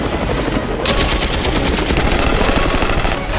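Sustained burst of rapid automatic gunfire laying down covering fire, dense and loud, running continuously for several seconds with no talk.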